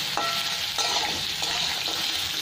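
Green mango pieces fry in a pan, a steady broad sizzle with a few stirring scrapes at regular intervals, close and fairly loud with no talk.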